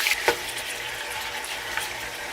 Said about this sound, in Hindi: हम इसमें चिकन को ऐड कर रहे हैं, और इसको फ्राई करके कम से कम 4 से 5 मिनट तक फ्राई होगा